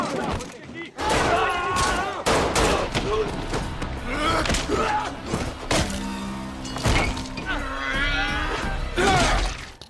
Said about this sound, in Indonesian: terjadilah adegan gelut, baku hantam, dan tembak-menembak